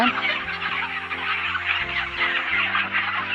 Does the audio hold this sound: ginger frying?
no